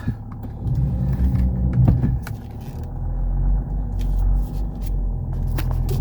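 A 2006 Mercedes E320 CDI diesel car pulling away at low speed, a low engine rumble with interior creaks and clicks, the drone swelling steadily as it gets moving.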